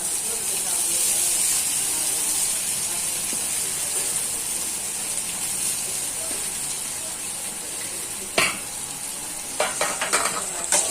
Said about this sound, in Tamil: நூடுல்ஸ் நூடுல்ஸ் போட்டு சாட்டிங் பண்ணிக்கலாம்